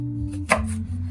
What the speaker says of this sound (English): Still using your kind of standard sort of safety chopping techniques here.